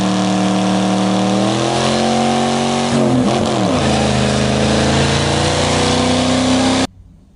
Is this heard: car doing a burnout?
yes